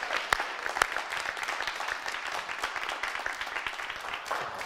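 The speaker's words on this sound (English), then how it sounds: "Big round of applause for Sister Sue" An audience applauds at a comedy-style stage show, a dense wash of clapping from a crowd with a couple of sharper nearby claps, moderately loud throughout.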